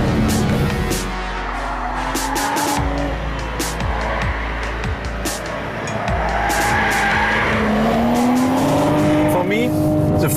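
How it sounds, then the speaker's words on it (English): A BMW 4 Series Coupé driven hard through corners, its engine revving and shifting pitch while tires squeal and skid repeatedly, loud and close, with someone talking over the car. "you steer the car through the corners, not only with the steering wheel, but also with the throttle"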